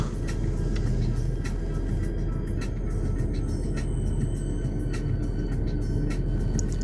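A running car engine idles steadily as a continuous low rumble, close and constant, with faint intermittent higher clicks and no speech.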